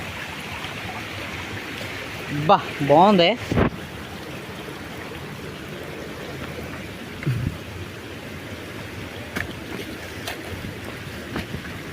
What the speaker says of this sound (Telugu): వాటర్ ఫాల్స్ తెచ్చాం పొల్లూరు వాటర్ ఫాల్స్ ఇది వచ్చి మోతుగూడెం దగ్గర ఉందన్నమాట